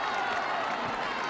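Marathon spectators near the finish line of the London Marathon applauding and cheering a runner, a dense wash of clapping and crowd noise heard briefly.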